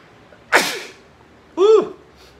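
A sharp sneeze bursts out up close, followed a moment later by a short vocal sound.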